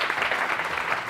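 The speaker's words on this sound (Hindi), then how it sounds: "अच्छा अब जरा तालियां बजाते रहो, मिलकर बजाते रहो, बहुत सारी तालियां वर्दा के लिए।" Studio audience on a TV morning show applauding together, a dense, steady wash of clapping hands filling the whole short moment at moderate level with no pauses.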